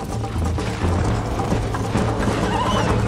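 A horse whinnies during a gallop in Red Dead Redemption, amid continuous hoofbeats, game music and ambient noise, with no talk.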